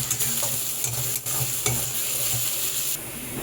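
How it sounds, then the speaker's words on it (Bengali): Sliced onions dropped into hot oil with browned ginger, sizzling steadily and close with a few soft knocks and stirring scrapes, no voices. "এইবার আমি পেঁয়াজগুলোকে তেলের মধ্যে ছেড়ে দিচ্ছি"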